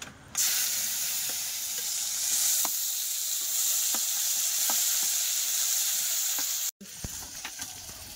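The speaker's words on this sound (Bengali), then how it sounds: "এই যে কড়ার মধ্যে তেল আছে, এই তেলের মধ্যে দিয়ে দেবো পেঁয়াজ কুচি" Chopped onion hits hot oil in a kadai and sizzles loudly and steadily, with occasional faint stirring ticks and a brief cutoff near the end before the sizzle resumes.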